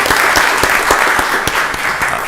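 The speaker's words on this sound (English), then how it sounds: "Let's give Commissioner Washington a round of applause" A commissioners' meeting room breaks into a brief, dense round of clapping from the audience, loud and close, with no talk over it.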